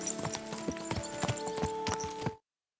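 In Kingdom Come: Deliverance II, a horse trots in after being whistled for, its hooves clip-clopping in a steady, close rhythm for a couple of seconds before the sound cuts off abruptly.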